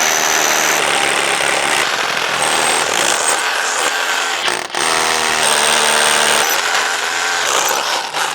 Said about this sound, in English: I know where I need to drill, so let's drill our holes.